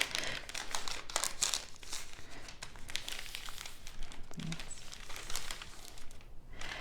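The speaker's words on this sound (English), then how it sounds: "is I will fold my paper in half." Sheet of paper being folded in half for a small handmade zine: soft crinkling and rustling, quiet and close, with a few sharper crisp bursts.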